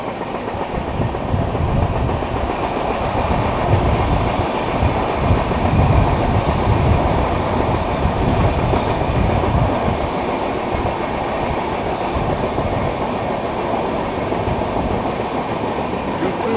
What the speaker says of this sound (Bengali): আমাদের ট্রেন এই মুহূর্তে আসানসোলে ঢুকছে